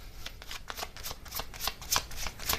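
Message cards for a tarot-style card reading are shuffled by hand, producing a quick run of crisp riffling flicks close up and fairly quiet, with no voices.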